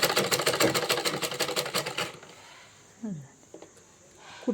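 Sewing machine stitching the fall onto a saree, a rapid loud chatter of stitches for about two seconds before it stops, followed by quieter handling sounds.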